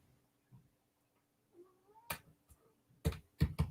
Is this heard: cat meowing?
yes